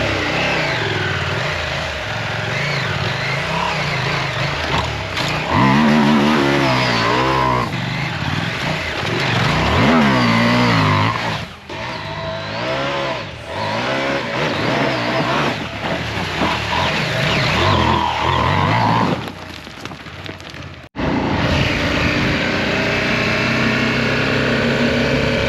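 A Chinese KTM-style dirt bike engine screams at high revs, bouncing against its limiter with rapid stuttering cuts, loud and sustained over about twenty-five seconds, with brief dips and a sudden drop near the end.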